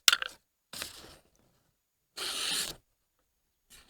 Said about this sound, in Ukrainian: А зараз давайте ж подивимось е, невеличкі тести, як цей ніж буде різати.